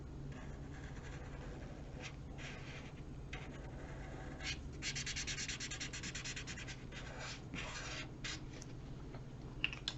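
A chisel-tip marker colors large areas on paper, a soft continuous rubbing and scratching with short bursts of quicker strokes, close and quiet throughout.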